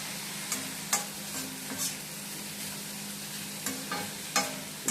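Onions sautéing in a pan with chili powder and turmeric for an onion fry, a low steady sizzle broken by several sharp scraping stir strokes at irregular intervals, close and quiet with no talking.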